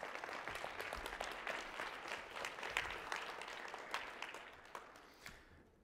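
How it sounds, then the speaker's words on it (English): Church congregation members clap for a couple called up front, a fairly distant, continuous patter of applause that fades out at the end. "Yeah, you can clap for them."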